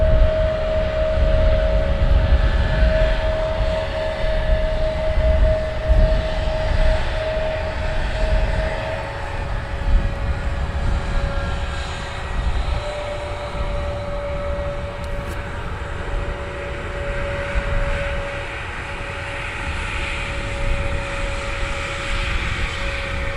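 An airliner taxiing at Luton Airport in the early morning gives a steady, continuous jet engine rumble with a sustained whine, fairly close, with no voices over it.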